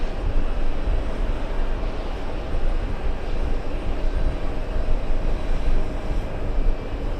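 Airliner on runway 13 left, a loud, steady broadband jet roar with rumbling low end, sustained without breaks and heard from some distance.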